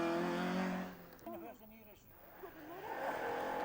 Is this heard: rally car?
yes